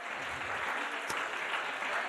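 Audience applause at a Paris 2024 Olympic and Paralympic presentation event: a faint, dense, steady wash of clapping from a distant crowd.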